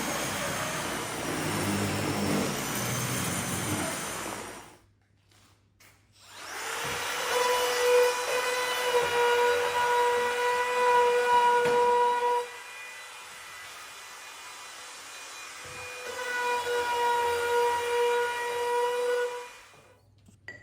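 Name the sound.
rotary brush machine texturing English oak door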